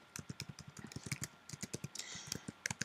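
Quick, uneven keystrokes on a computer keyboard, close and crisp, with a few brief pauses between bursts of typing.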